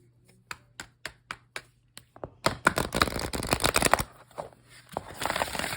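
Several evenly spaced taps, then two bursts of fast, crackling riffles as a deck of cards is shuffled close by.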